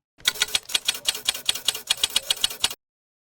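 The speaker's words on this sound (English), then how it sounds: "And a realistic typewriter sound." Rapid AI-generated typewriter keystrokes clacking in a steady, fast rhythm for a few seconds, crisp and close, with no voices.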